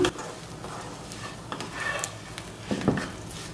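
Ash plantain stir-fried in a pan, with soft sizzling and intermittent scraping and stirring of a utensil against the pan, close and fairly quiet.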